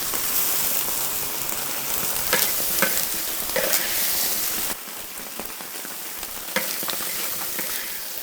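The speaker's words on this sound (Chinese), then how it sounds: "这个炒了几下，再把剩下的菜叶子再放进去。" Vegetable leaves stir-fry in a wok in a rural Chinese home kitchen with a loud, dense sizzle and scraping stirs, easing slightly in level partway through as tossing continues.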